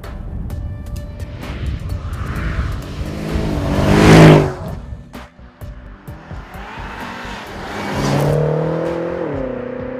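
A sports car driven fast, faster than a BMW M6, roars past with engine revving and tire squeal, swelling loud near the middle and again toward the end.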